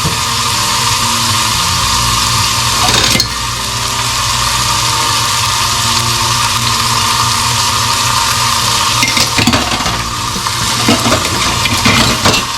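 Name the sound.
seasoned meat searing and sizzling in a pan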